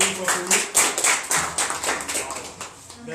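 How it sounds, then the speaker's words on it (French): Scattered clapping from a crowd at a political party gathering, uneven claps and taps pulsing irregularly, fairly close, with voices talking over them. "Applaudissez un peu une fois pour nous."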